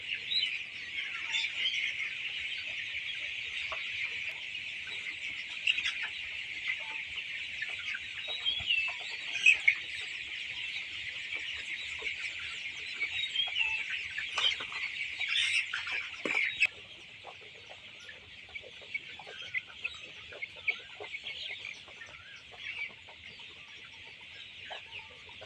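Chickens on a poultry farm cluck and chatter continuously at moderate distance, a steady flock murmur with occasional sharper calls; the overall level drops slightly partway through, and no one speaks.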